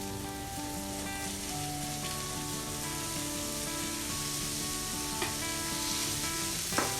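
Burgers sizzle in butter on a hot indoor grill, a steady close crackle and spatter with a few sharper pops, no talking.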